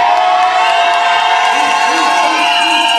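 Crowd cheering and whooping from an audience at a full-figured pageant's daywear runway segment, a steady loud roar of voices with shouts rising over it throughout.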